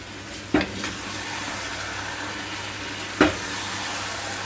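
Crushed whole spices are stirred in a pan with a steady soft sizzle, punctuated by two distinct scraping stir strokes, close and continuous.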